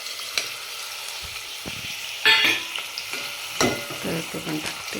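Onion frying in oil in a pan, a steady close sizzle with occasional stirring clatters and scrapes, no talking over it.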